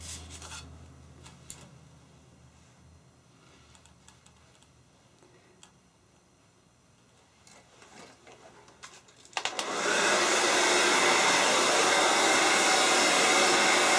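Faint ticks and soft handling noises come first. Then a hair dryer blow-drying short hair switches on and runs loud and steady, with a strong airy roar, for the last few seconds.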